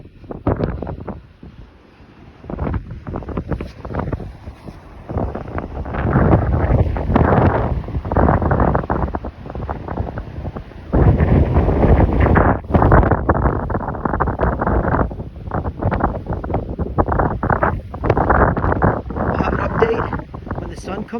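Gusty wind from a 2022 blizzard in Central New Jersey, buffeting the microphone in loud, rushing surges that rise and fall throughout, with brief lulls between strong gusts.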